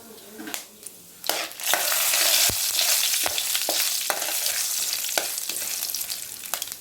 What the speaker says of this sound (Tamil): நல்லா பொரிஞ்சதும் வரமிளகாய் சேர்த்துக்கலாம்.